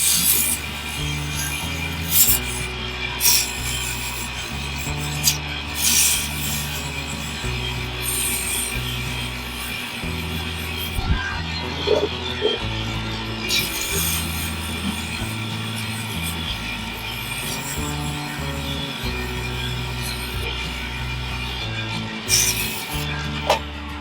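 Sandpaper rubbing a spinning wenge wood cigar pen blank on a lathe, a steady raspy hiss with rhythmic swells as the paper moves back and forth, close and continuous with no talking.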